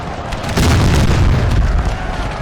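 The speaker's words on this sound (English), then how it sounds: "Artillery firing as well" Booming artillery fire in a Russian assault during a 3v3 Grand Battle Mod game, a dense rumbling barrage of heavy low blasts that swells louder after the first half second and rolls on continuously.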